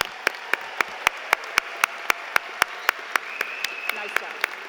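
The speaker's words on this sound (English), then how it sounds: "and a big round of applause" Sparse, slow clapping from a college convocation audience, single claps landing at a steady beat, fairly quiet and thin rather than a full ovation, with a faint tone partway through.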